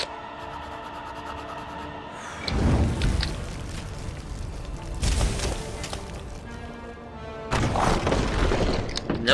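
Rocks come crashing down in the Lego Lord of the Rings PC video game, three separate heavy rumbling bursts of tumbling debris, each loud and booming, with quieter game ambience between them.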